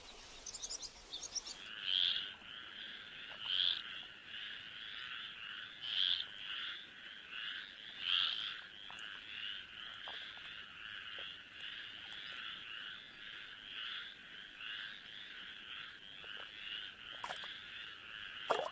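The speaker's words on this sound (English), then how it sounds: "Stripeless tree frogs are also common. They reserve their mating chorus until nightfall." Stripeless tree frogs call in a night mating chorus, with a dense, rapid rasping croak pulsing continuously in the background and a few louder nearby calls standing out every couple of seconds.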